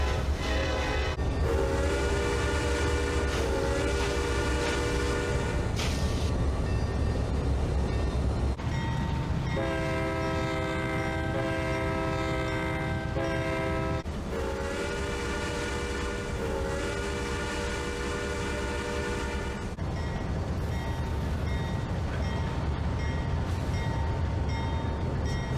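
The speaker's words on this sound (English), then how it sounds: "The day was fun, with horns blowing at 3751 and 3751 whistling back." Steam locomotive 3751 and other train horns sound in long, loud alternating blasts at Barstow, the whistle and horns answering each other over a rumbling rail yard.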